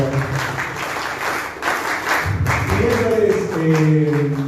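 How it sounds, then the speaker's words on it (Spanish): An audience applauds at a Spanish-language talk on small business, a few seconds of dense clapping that swells slightly, with a voice speaking over it. "Un gran aplauso también a Daniel, por favor."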